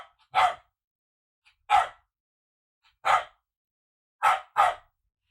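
A dog barks loudly five times, single sharp barks spaced about a second apart with the last two close together, close by in an otherwise quiet indoor room.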